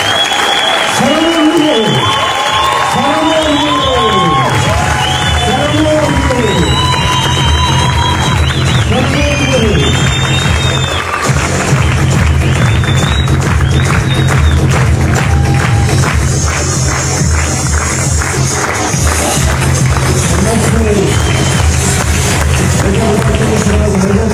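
An audience at a film premiere for the Ethiopian mafia movie Kebad Mafiya breaks into sustained applause with dense clapping. Loud music and a voice carry over the applause as it continues.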